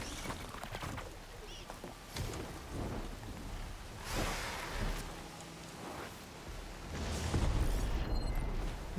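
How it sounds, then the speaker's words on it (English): Thunderstorm with steady rain in the video game Burning Shores, with thunder rumbles swelling at intervals over constant rainfall, loudest near the end. "The air's crackling with those storm clouds looming."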